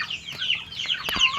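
Chickens of mixed breeds, including Orpingtons, cluck at feeding time, giving a few short close calls in quick succession.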